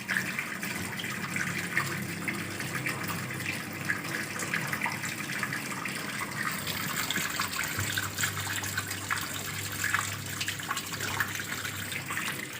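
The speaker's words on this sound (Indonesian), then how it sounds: "Itu dia dibuang airnya." A washing machine pumping out its water while under repair, a steady rushing, gushing flow with a low hum underneath, constant and close for the whole stretch with no talking.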